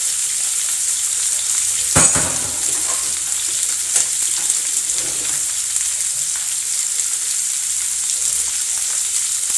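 Pork and vegetables stir-fry in a pan with a splash of water. A steady, close sizzle carries occasional stirring clatters throughout.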